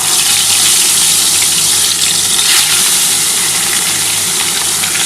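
Hilsa fish pieces fry in hot oil in a kadai, a loud, steady, hissing sizzle that stays close and dense throughout.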